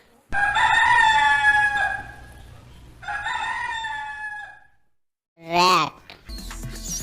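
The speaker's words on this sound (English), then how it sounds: "rooster," A rooster crows loud and close, two long drawn-out calls one after the other, followed by a short burst of a different noisy sound.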